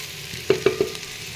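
Long-cut eggplant slices frying in a pan, a soft sizzle with three quick sharp clicks of a utensil against the pan in close succession.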